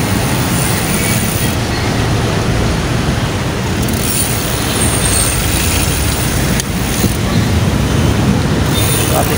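Road traffic in a busy Philippine street makes a loud, continuous broadband roar of engines and tyres that holds steady throughout with no pauses, and no voices are heard.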